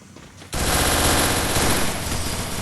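Rapid automatic gunfire in a shooting video game bursts in loud and close after a brief quieter moment and continues as sustained firing.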